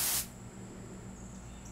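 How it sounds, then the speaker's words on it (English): A spray bottle or nozzle lets out one short, loud burst of hissing at the very start and then stops, leaving a quiet, low hum behind it. "Keep spraying."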